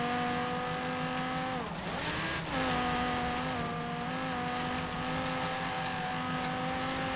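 A racing car's engine in the video game Forza Horizon 3 holds a steady, droning whine with layered tones, briefly dipping as if shifting or braking and then climbing again, heard alone at moderate level.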